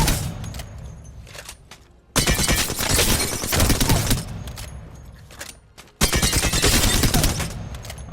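Alternator submachine gun loaded with disruptor rounds fires in Apex Legends, two long rapid bursts of close, loud automatic fire separated by a short pause, with a quieter rattle before.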